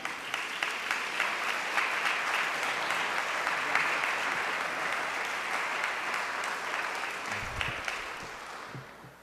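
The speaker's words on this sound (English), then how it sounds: "We want to bring to this rostrum at this time with a warm round of applause." A crowd gives a warm round of applause at a religious gathering, dense steady clapping that holds for several seconds before tapering off at the end.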